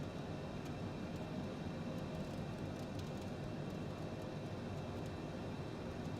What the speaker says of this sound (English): Hear the rain tapping off the plane.